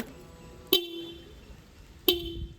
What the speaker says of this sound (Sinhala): ඊට පස්සේ මෙතන තියෙනවා horn එක